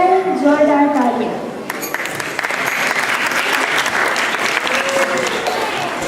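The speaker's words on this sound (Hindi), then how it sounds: "सो हो जाए जोरदार तालियां।" An audience at a Hindi youth stage show breaks into loud, sustained applause right after a voice, a dense steady clapping that fills the hall for several seconds.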